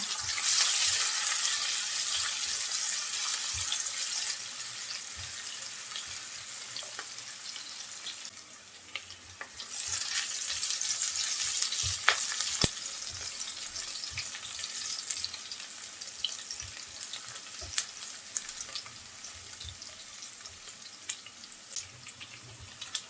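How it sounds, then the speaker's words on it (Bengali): Chopped onions and green chillies fry in oil for a drumstick lentil dal, a steady close sizzle running throughout with scattered crackles and small scraping touches. "পেঁয়াজ মরিচ একটু ভেজে নেব"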